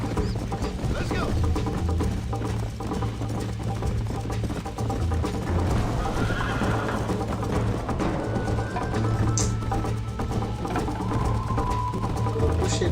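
A horse gallops in the classic Red Dead Redemption, steady muffled hoofbeats running under a dense game mix of music and effects, with a voice speaking over it throughout.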